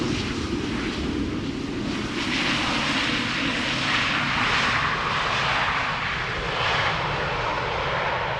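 An airliner on its inbound flight from Newcastle to Amsterdam Schiphol roars steadily close by in humid air, its broadband engine rumble loud and continuous with no voices over it.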